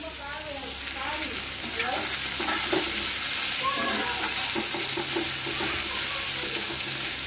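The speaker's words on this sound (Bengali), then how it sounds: "তো এই যে চাউমিন করছি, সব সবজি দিয়ে, গাজর, বিনস, আলু, ক্যাপসিকাম দিয়ে এই চাউমিন করবো।" Chow mein frying with carrots, beans, potato and capsicum: a loud, steady sizzle with repeated scraping and stirring of the noodles in the pan, close up, without talk.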